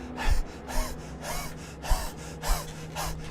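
A voice imitates exhausted panting: about half a dozen rhythmic, breathy huffs in quick succession, close and fairly loud, with no words.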